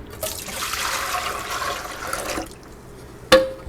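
Water is poured from a small bowl into a bigger bowl in a home kitchen, a close splashing gush lasting about two seconds that then drops off, followed by a sharp knock as the bowl is set down.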